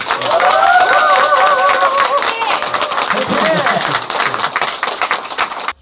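A crowd claps steadily and densely for several seconds, the applause loud and continuous before stopping abruptly.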